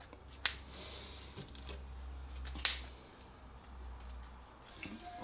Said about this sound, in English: just chop it up with scissors into the bowl straight from the air fryer